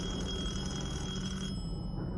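Telephone ringing in the horror game Detention, a steady electronic bell tone sounding continuously over a dense background hum, then cutting off partway through while the ambience carries on.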